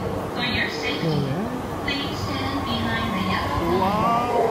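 Steady rumble of a Yamanote Line train in motion from inside a carriage, with voices talking over it and occasional metallic squeals.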